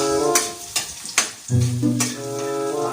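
Onions frying with ginger in a pan at a simple mountain farm kitchen, a steady close sizzle with a few louder bursts as food is stirred.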